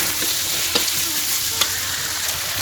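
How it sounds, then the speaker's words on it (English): Mutton fried rice being stirred in a hot pan, a steady frying sizzle with soft scraping and stirring knocks, close and fairly quiet, no voices. "Give them a good stir."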